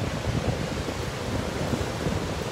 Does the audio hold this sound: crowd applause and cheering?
no